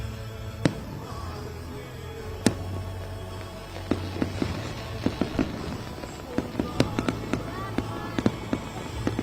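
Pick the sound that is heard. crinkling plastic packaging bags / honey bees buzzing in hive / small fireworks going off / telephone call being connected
small fireworks going off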